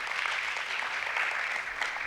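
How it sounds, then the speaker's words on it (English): Applause from a conference audience, a steady broadband wash of many hands clapping at moderate distance, sustained evenly for a couple of seconds with no voices over it. "Let's give them all another big round of applause."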